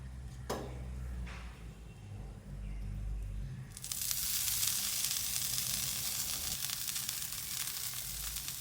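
Egg and cheese sandwich on a pan over low heat, faint crackling with light handling noises at first, then a steadier, fuller sizzle taking over, close and without talking.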